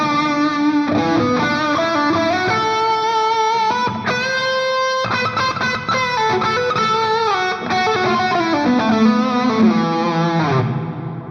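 Electric guitar played through AmpliTube 5 amp software with a subway room simulation, a loud distorted melodic line with sustained notes and reverberant tails running continuously for about eleven seconds.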